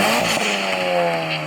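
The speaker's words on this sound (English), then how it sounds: "Turbocharger start doing its thing, and that is just a great sound to me." A 2017 Civic Type R (FK8) engine revving hard with a rising turbocharger whine, loud and close, steady throughout without pause.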